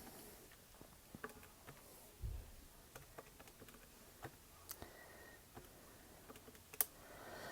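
Quick light clicks of fingers tapping number keys on a handheld calculator, scattered irregular taps at close range in a quiet room with no talking.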